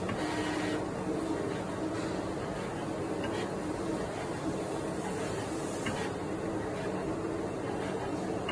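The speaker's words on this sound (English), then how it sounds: "insert the sheet into a cutting machine to shape the final RFID labels" A cutting machine shapes an RFID label sheet, giving a steady mechanical hum and whir that runs unbroken at an even level, with no voices.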